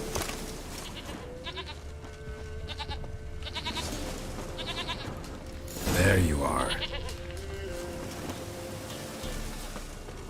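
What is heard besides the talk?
goat bleating in The Witcher 3 video game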